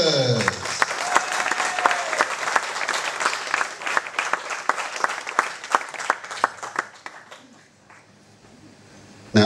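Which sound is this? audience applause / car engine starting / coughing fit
audience applause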